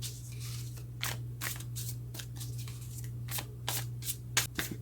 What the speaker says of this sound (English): what I tend to do is shuffle until it feels right